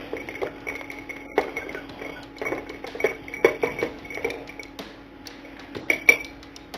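A spoon stirs an old fashioned cocktail in a glass, giving irregular clinks and light taps against the glass at close range, some bright ringing, with no talk.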